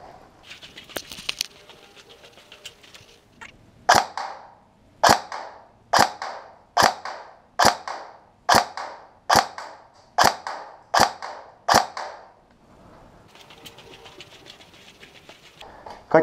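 A Tokyo Marui 416D airsoft rifle fires a series of ten sharp, evenly spaced shots with short decays, closely recorded, with quiet handling noise before and after.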